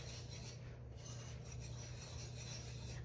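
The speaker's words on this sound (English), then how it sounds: "I'm just going to use my whisk and mix this up" A whisk stirs dry ingredients with a teaspoon of salt in a bowl, giving a continuous close scraping, rasping rub that holds steady throughout.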